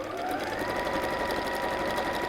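Sewing machine stitching two layers of fabric, a rapid, even mechanical whir with a steady pulsing rhythm, close and continuous, with no talk.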